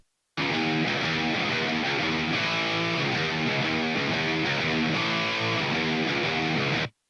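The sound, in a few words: reamped electric guitar tracks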